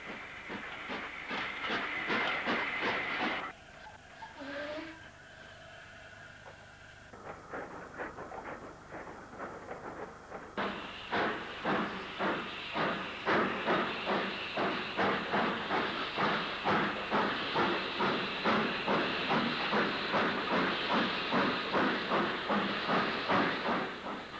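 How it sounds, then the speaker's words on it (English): Steam locomotive 45202 of Newton Heath departs the Bury Line platforms hauling parcel stock, a loud hiss of escaping steam giving way to a steady train of sharp exhaust chuffs that grow stronger and quicker. "45202 of Newton Heath takes out parcel stock from the Berry Line platforms in a cloud of steam."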